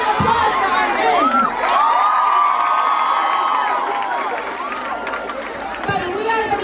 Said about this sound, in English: Give us a round of applause for our men.